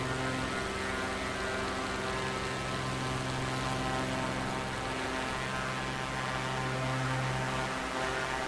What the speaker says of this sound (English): if the engine noise ever gets annoying